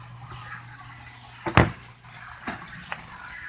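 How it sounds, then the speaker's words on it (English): Water in an aquaponic settling tank bucket in South Florida gurgles and splashes in a few short bursts, the loudest near the middle, over a low steady hum of flow. "The water comes up, unable to leave the bucket, must then go down and then back up again to get out the exit."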